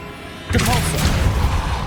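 A Depulso spell impact in Hogwarts Legacy inside a decayed catacomb, a sudden loud burst after a half-second lull, followed by a dense rumbling, crashing wash of debris that lingers to the end.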